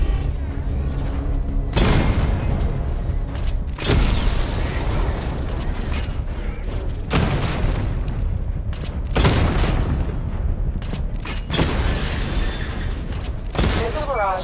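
A missile barrage pounds targets in Batman: Arkham Knight, making loud, dense explosions that roll on in long waves of rumbling blasts, broken by a few brief gaps.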